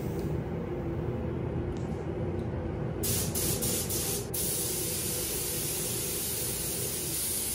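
Spray gun paint hisses in a steady, continuous stream while a Rolls-Royce Corniche gets its coats in a spray booth, with a brief brighter burst of spray partway through over a constant fan roar.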